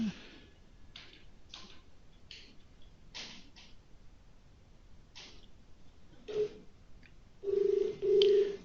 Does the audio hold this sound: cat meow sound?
no